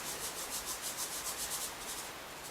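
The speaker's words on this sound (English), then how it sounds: "we're just going to put that 50 grams of sand down." Sand is poured onto a thick carpet, giving a steady soft rushing hiss that pulses gently and continues close and fairly quiet, alone.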